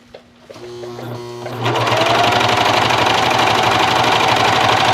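A domestic sewing machine gathers elastic ruching, starting with a few slow stitches and then settling into a fast, loud, steady whir of continuous stitching close to the microphone.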